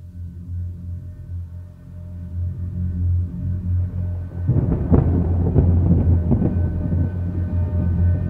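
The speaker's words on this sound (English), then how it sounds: "The afternoon thunderstorms can be pretty gnarly." A summer afternoon thunderstorm in Louisiana gives a low rumble that builds into a louder rolling crack of thunder midway, then keeps grumbling heavily in the distance, with no voices.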